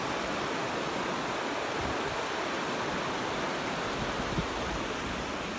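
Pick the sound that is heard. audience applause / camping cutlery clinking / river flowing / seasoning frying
river flowing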